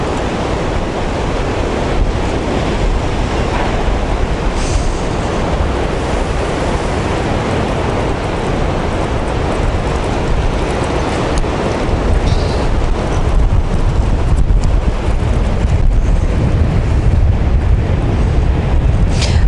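Strong winter wind roars across a beach at Anapa while sea surf crashes continuously beneath it, a loud, unbroken wash of noise with gusts buffeting the microphone and no one speaking.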